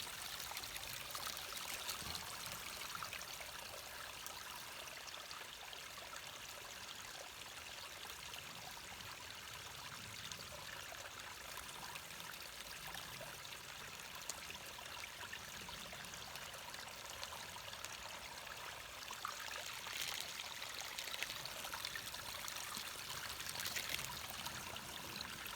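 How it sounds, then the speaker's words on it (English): Mountain stream water pouring and trickling into a Wazoo bag being filled, a steady faint rushing gurgle throughout with no voices. "I'll take that and I'll fill it right here in the stream."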